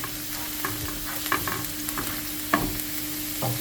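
Garlic fries in a pan in a home kitchen with a steady low sizzle, while a utensil stirs and scrapes it in a few brief knocks and clinks close by.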